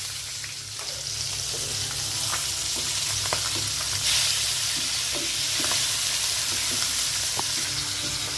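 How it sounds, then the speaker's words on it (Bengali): Hilsa fish frying in oil in a pan, a continuous crackling sizzle with scattered pops and occasional light taps, steady and close with no talking. "তো আমার ইলিশ মাছ ভাজাটা অনেকটাই হয়ে গেছে"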